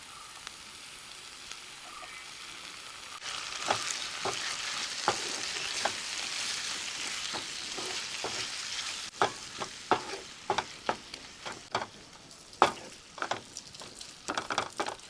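Chicken liver frying in a pan with tomato sauce and dried fenugreek leaves: a continuous close sizzle with scraping stirring strokes, and the clatter of spatula against pan grows busier and louder toward the end. No talking.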